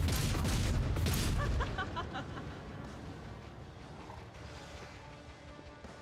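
Gunfire and heavy mechanical clatter from the video game Warhammer 40k Rogue Trader, loud bursts at first, then fading into softer mechanism noises and game ambience, with a brief voice under it.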